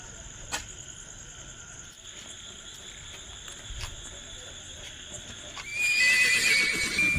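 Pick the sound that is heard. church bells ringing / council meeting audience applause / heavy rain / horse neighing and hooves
horse neighing and hooves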